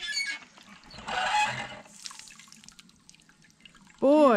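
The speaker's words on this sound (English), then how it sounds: "there's some waters coming out now." Water trickles and drips from a hand pump at a backpacking trail stop, a noisy splashing burst followed by fainter dribbling, with a voice briefly heard at the end.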